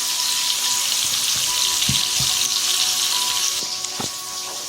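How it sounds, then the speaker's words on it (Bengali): Fish frying in hot oil in a wok, a steady hiss of sizzling with a few soft pops and knocks, close up and with no talking. "মাছগুলো ভাজতে দিয়ে দিয়েছি।"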